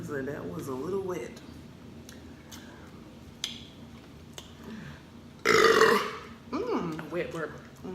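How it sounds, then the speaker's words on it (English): A wet, gurgly burp bursts out loudly during a chicken and cheese quesadilla meal, with people talking quietly before and after it. "Wet burp."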